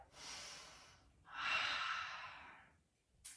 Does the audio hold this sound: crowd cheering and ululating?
no